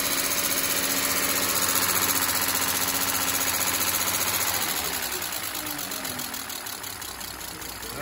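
A BMW M54B25 2.5-litre inline-six idles steadily close by, its even hum carrying a faint rapid lifter tick, the level easing slightly toward the end.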